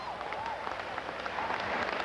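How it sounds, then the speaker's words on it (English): Audience applause for the Perfect Five on stage at the Miss Ghana 1996 pageant: dense, steady clapping from a crowd filling the whole stretch, with faint voices mixed in. "let's give them a nice round of applause"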